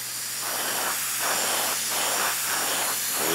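An airbrush sprays paint in short repeated bursts, a loud close hiss that swells and fades about five times in a steady rhythm as a light coat goes on.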